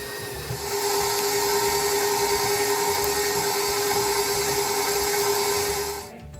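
An electric mixer beats ripe bananas into batter with a loud, steady high-pitched whine that holds evenly, then winds down at the end.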